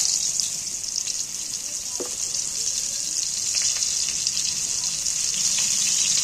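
Sliced pointed gourd (potol) frying in a little oil with turmeric and a pinch of salt in a pan over low heat: a steady, close, continuous hissing sizzle with a few faint clinks.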